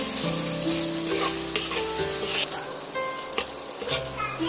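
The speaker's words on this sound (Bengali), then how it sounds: "আবারও টমেটোর সঙ্গে কষিয়ে নেব" Tomato with ginger and garlic sautés in a pan for Bengali masoor dal with egg, a bright continuous sizzle with light stirring taps, close and alone.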